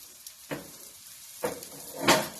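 A moong dal bun dosa roasts in oil on a pan over medium heat, giving three soft bursts of sizzling that grow louder, with the last one being the strongest, over quiet background hiss.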